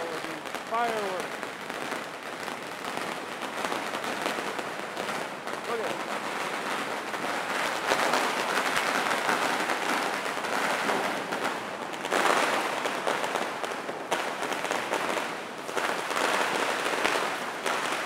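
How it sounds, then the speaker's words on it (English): Dense crackling bursts and pops from Chinese New Year fireworks go off steadily for the whole stretch, with people talking over the noise. "Look at all of these fireworks."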